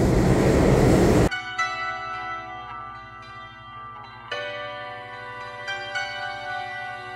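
A train in the United States: a loud rumble opens, then cuts to sustained horn-like tonal chords over a low rhythmic clatter of wheels, which swell again midway and continue steadily.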